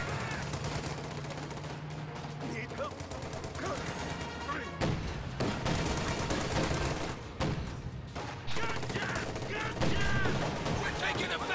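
Sustained gunfire and machine-gun bursts from a World War II strategy game battle with King Tiger tanks, anti-tank guns and Fallschirmjäger infantry, a dense continuous fusillade with heavier crashes, voices talking over it.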